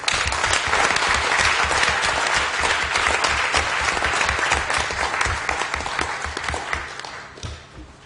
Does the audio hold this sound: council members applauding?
yes